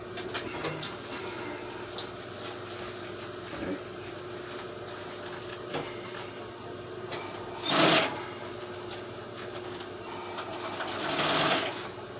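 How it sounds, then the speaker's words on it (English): A sewing machine runs slowly, sewing a double-stitched French seam on old Suburban seat upholstery, a quiet steady whir with a few brief louder bursts and clunks near the end. "Can't really go fast on the double stitch because you might get it crooked."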